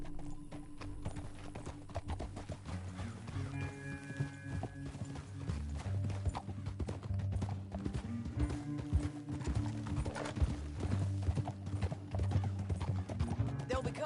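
Rhythmic clip-clop of galloping hooves over a busy Red Dead Redemption soundtrack, with a horse whinnying briefly and voices talking now and then.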